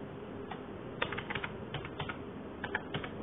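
Quick, light clicking of a computer keyboard as Arduino code is typed, with a steady run of keystrokes at modest volume over a faint background hiss and no voices.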